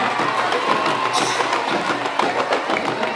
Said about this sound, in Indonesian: Pada tepuk tangannya untuk para peserta kontingen dari Jawa Barat